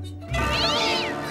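Several cartoon cats meow and caterwaul together, a loud overlapping chorus of drawn-out cries that swells in after a brief quieter lead-in.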